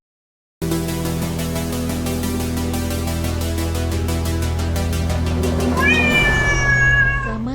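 A kitten meows repeatedly and loudly in a steady run, the cries rising in pitch toward the end, with no talking.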